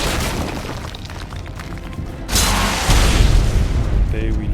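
Rockets from a launcher in the video game ARK blast against a lava golem, a heavy booming explosion swelling midway into a loud, sustained rumble of debris and noise.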